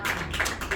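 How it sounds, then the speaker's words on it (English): A small audience claps for three participants at a magic show, a short close burst of hand claps with a few sharp taps standing out. "So a round of applause for my 3"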